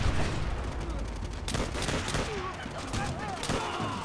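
Dense, loud gunfire from the video game Call of Duty: World at War, with overlapping machine-gun bursts and rifle shots packed into a few seconds and voices shouting in the mix.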